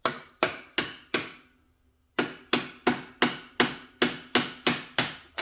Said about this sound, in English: you take a screwdriver and a hammer. You just set it on there, just tap it just a little bit